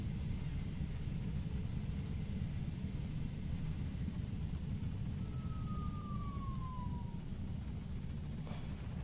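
In Microsoft Flight Simulator, played in VR, an aircraft taxis with a steady, loud engine rumble that runs unbroken throughout, with a faint rising-and-falling tone briefly crossing it midway.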